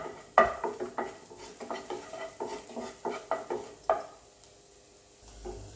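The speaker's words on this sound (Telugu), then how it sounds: "పూల్ మక్ని రోస్ట్ చేసుకున్నప్పుడు గ్యాస్ సిమ్లో పెట్టుకుని రోస్ట్ చేసుకోండి ఫ్రెండ్స్." Fox nuts (pool makhana) roast in a pan over a low gas flame, stirred with a utensil that gives a quick series of rattling, scraping clatters, close and clear without talk.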